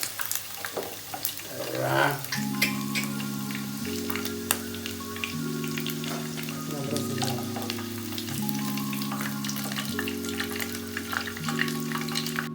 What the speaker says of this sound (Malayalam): നമുക്കിതൊന്നും കൂടി ഫ്രൈ ചെയ്തെടുക്കാം കേട്ടോ